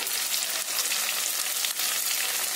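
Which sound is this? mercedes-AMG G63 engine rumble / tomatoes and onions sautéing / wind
tomatoes and onions sautéing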